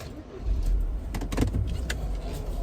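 A 1995 Mercedes 220CE pillarless coupe starting up, a close mechanical whir and rising rumble with a few clicks and knocks inside the car, no talking.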